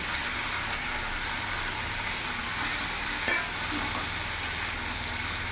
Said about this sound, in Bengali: এবার আলুর সাথে আমি দু তিন মিনিট কষিয়ে নেব